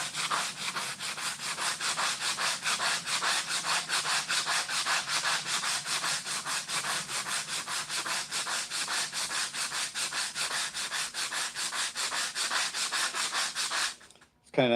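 Continuous rhythmic rasp of a flexible sanding block rubbed over bondo on a curved custom motorcycle mirror, steady back-and-forth strokes close up, stopping abruptly near the end.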